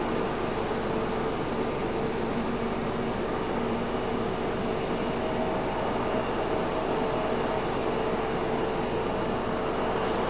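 A CRJ regional jet approaches Raleigh-Durham International Airport from the northeast, a steady broad engine roar that holds without a break and with no voices.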